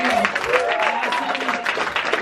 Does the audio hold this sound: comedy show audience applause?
yes